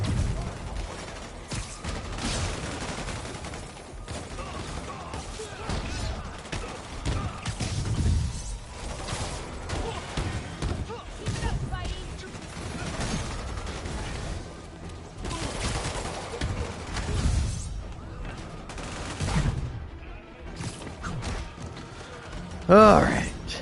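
Enemies fire guns in a Spider-Man video game, with dense overlapping gunfire, mechanical clatter and crashing impacts running steadily throughout, mixed with someone talking.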